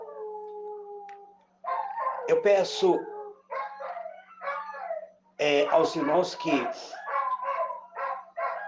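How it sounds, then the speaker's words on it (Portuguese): Neighbourhood dogs bark and howl in several bursts, with drawn-out howls and sharper yips, fairly close and loud, while someone speaks at the start amid a faint steady hum. "Peço perdão pelos latidos dos cachorros."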